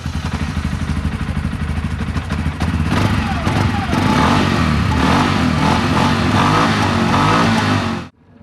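A quad bike with big wheels and a powerful engine, being prepared for shipment to the front, runs loud and close, its engine note rising and revving steadily before cutting off abruptly at the end.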